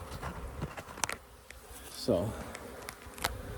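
Honey bees buzz around an open hive with frames of new wax and a new queen, a soft steady drone close by with scattered clicks and handling noises, and a voice speaking briefly over it.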